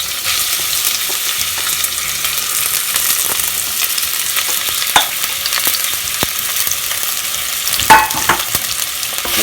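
Sliced onion frying in a pan with spices for kaale chane and methi pulao, a continuous sizzle and crackle punctuated by a few sharp pops and spatula scrapes, close and fairly loud, no talk.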